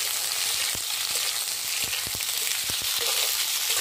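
Ridge gourd slices sizzling gently in mustard oil with green chillies and black cumin, a continuous close frying hiss broken by a few sharp utensil taps while stirring.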